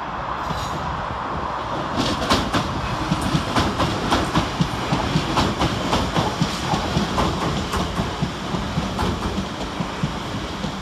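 A passenger train rolls past close by through Bescot Stadium station, wheels clattering rhythmically over rail joints in a steady, loud stream of clicks and rumble.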